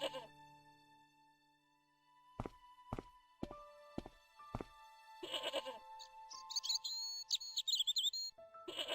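Goat bleating in the video game Broken Sword: Shadow of the Templars, a few wavering bleats near the end after a series of sharp tonal knocks and steps, set against a quiet game ambience with faint chirps.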